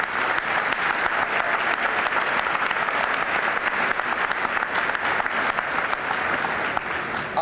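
Sustained, dense applause from a large commencement crowd at a 2012 Jefferson College graduation, honoring scholarship recipients with perfect 4.0 averages; steady, even clapping fills the whole stretch with no talk over it.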